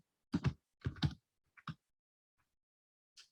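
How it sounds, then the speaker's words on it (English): Typing on a computer keyboard during business software data entry, a few short bursts of close key taps separated by pauses, then a faint last click, with no talking. "Type in fire sleeve."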